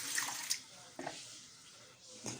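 Quiet splashing and trickling of water being poured into a pot holding jars, with a few faint clinks, heard close and soft.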